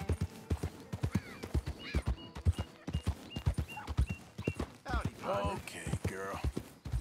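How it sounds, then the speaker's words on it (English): Horse hooves clip-clopping at a steady walking rhythm in the video game Red Dead Redemption 2, close and distinct, with occasional snorts and a rider speaking softly over them. "But we'll be using this horse."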